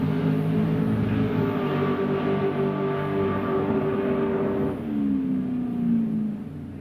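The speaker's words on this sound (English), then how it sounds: "Dragster against Dragster." Dragster race cars in a Top Car final at a drag strip roaring under acceleration, a loud sustained engine drone whose pitch slides downward as they pull away, with no talk.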